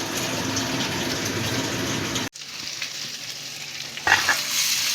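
Tomato is stirred into a chhana curry frying in a pan, a loud continuous sizzle that cuts out suddenly and then returns softer with scraping and stirring sounds, closing on a brief louder clatter.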